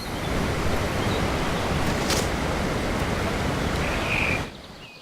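A waterfall in the game Ark Survival Mobile gives a steady, dense rush of falling water. It roars evenly for most of the clip, then drops off sharply near the end.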